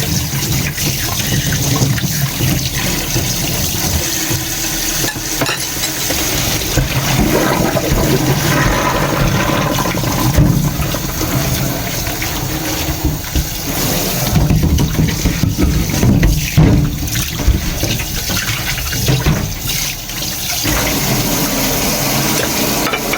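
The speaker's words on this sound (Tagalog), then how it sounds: "Hugasan na nga to para ang lamig." Tap water runs steadily and fairly loud while something is washed in a kitchen during oden cooking, a continuous rushing stream with small splashes and no talking.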